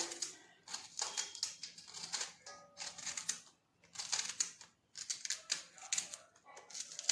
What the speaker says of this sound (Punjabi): ਹੁਣ ਦੇਖੋ ਇਹਨਾਂ ਦੇ ਪਤਲੇ ਪਤਲੇ ਸਲਾਈਸ ਕੱਟ ਲੈਣੇ ਨੇ